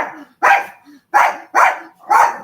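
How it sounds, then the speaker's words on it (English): A dog barks close and loud five times in an uneven rhythm, each bark short and gruff, with faint whines between the first ones and no talking. "that my dog was going to bark."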